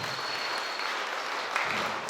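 Dense, steady applause from guests at a Kazakh circumcision celebration feast, many hands clapping together at moderate loudness with no break.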